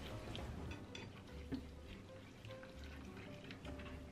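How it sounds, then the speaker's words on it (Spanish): Warm milk being stirred into a toasted flour roux for béchamel, giving a soft continuous bubbling sizzle with faint scraping and stirring, low in level and heard alone without talk. "Lo mezclamos todo bien para evitar que salgan grumos."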